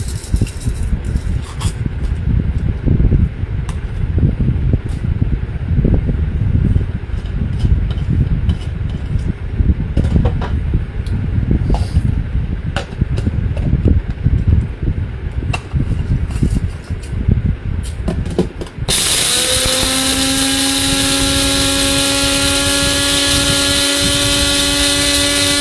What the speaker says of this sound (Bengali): এবার 4 ব্লেডে গুঁড়ো করে দেখাচ্ছি।